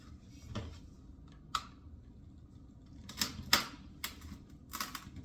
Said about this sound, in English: I'm going to take the knife and I'm going to cut all the way down that ridge to separate this into halves